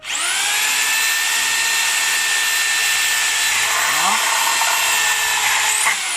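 A power drill fitted with a metal bit bores into plasterboard, giving a loud, steady high whine that runs unbroken for about six seconds before cutting off.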